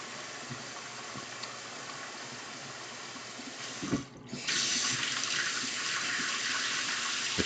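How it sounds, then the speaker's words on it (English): Hot water runs from a kitchen tap in steady continuous flow, close and fairly soft, briefly changing as the stream shifts partway through, then carrying on fuller, with no talk. "So I'm going to just run my tap hot and get some hot water."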